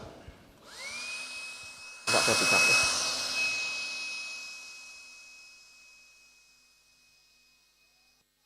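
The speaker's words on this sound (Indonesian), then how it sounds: "Ini mesin blower ya. Jadi anginnya cukup kencang." A loud electric blower whirs with a steady high whine during a science experiment demonstration, surging louder midway before gradually winding down and fading out; a voice speaks briefly in Indonesian.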